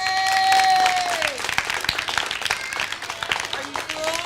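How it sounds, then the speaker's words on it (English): Scattered clapping from children at an elementary school Ag Day for their teacher, starting under a voice and a sustained tone, thinning into uneven claps and chatter. "Y'all give a hand clap for your teacher."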